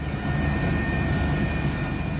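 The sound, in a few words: airplane landing in strong crosswinds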